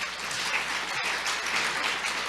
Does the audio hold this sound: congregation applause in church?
yes